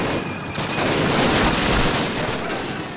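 Continuous dense gunfire from the Call of Duty video game during a building-defense match, steady bursts of rapid shots packed close together and loud throughout, with no voices.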